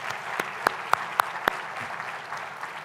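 Applause in a large plenary hall at an annual meetings session, a steady distant wash of clapping with a few sharper, closer claps standing out early on.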